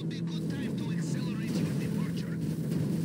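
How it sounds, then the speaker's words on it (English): Helicopters circling in GTA V make a steady, rumbling drone that holds evenly throughout, loud and continuous, with people talking over it. "Helicopters."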